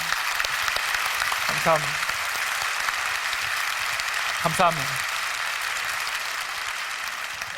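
An audience at a Christian conference applauds the staff of an organization serving disabled people, a steady wash of clapping throughout while someone speaks briefly over it twice.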